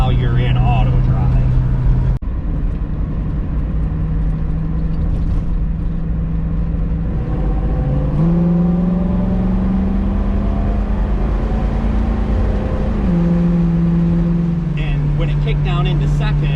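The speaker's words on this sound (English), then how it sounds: "Kick down into second, that was with the overdrive on, so it just makes for a really nice passing gear" A 1971 Ford Torino with a Gear Vendors overdrive cruises with a steady engine drone inside the car, then kicks down into second, and the engine tone rises and shifts in pitch before settling again.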